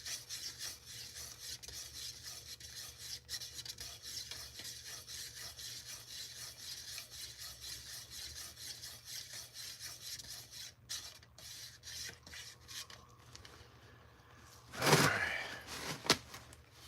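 A stick scrapes and rubs around inside a can of wood stain in a steady, quiet, rasping rhythm, then a louder clatter near the end.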